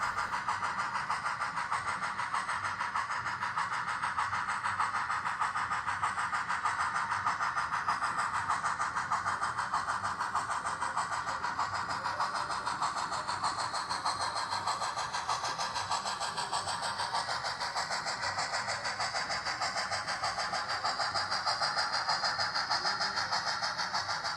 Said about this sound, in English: here is the other train, a passenger. Let's watch as it heads on past us.